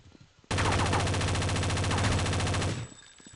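Sustained automatic gunfire in Counter-Strike: Condition Zero, one loud rapid burst of about two seconds that starts abruptly and cuts off, with quiet game ambience before and after.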